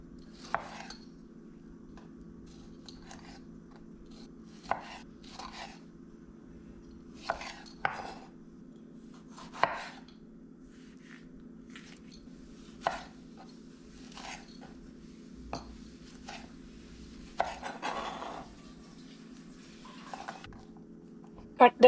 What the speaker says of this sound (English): Let's cut the tomatoes.